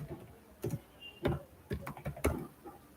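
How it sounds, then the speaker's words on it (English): Typing on a computer keyboard, with irregular bursts of close, soft key taps and brief pauses between them, quiet and without any talking. "I'm typing the question in the chat window."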